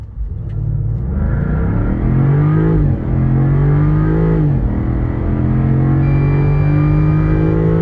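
A 2023 Land Rover Defender 90 V8 launches hard from a standstill, its engine roaring loudly as it climbs through the revs, with brief dips at the gear changes before it pulls on steadily.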